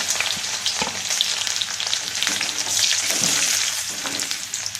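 Two cloves of garlic and a small piece of ginger, cut into thin lengthwise strips, fry in hot oil in a pan, giving a steady, dense crackling sizzle with occasional sharper pops, close and loud, with no voices.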